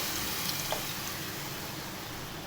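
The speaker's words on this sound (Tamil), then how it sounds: "இந்த புளி எலுமிச்சம்பழம் அளவு எடுத்து கரைச்சி வச்சுருக்கனால அது நல்லா தண்ணியாக கரைச்சி ஊற்றிக்கணும்" Dissolved tamarind water pours into a simmering lentil-dumpling curry, a continuous close splashing and gurgling stream of liquid that runs steadily for a couple of seconds.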